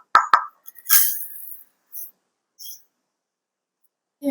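Three-quarters of a cup of sugar drops into a bowl already holding eggs and oil for cupcake batter, making a few brief, close taps and one soft grainy pour, with quiet gaps between.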